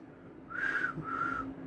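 A person whistles two short, clear notes in a row, each held for about half a second, soft and close against a quiet room.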